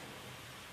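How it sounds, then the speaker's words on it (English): Rain falls steadily outside during a Florida hurricane storm, a brief, faint wash of even hiss. "Sorry about the rain."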